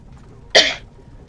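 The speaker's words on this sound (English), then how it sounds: "Excuse me for my coughing." A single short, sharp cough close to the microphone, isolated against quiet background.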